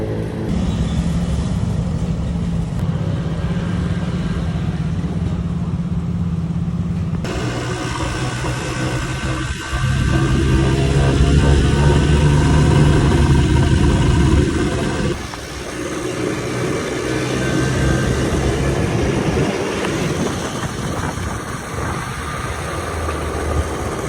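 Honda NSR two-stroke motorcycle engine droning steadily while riding along a coastal road near Teluk Bayur, with shifts in tone and intensity at a couple of points and no voices.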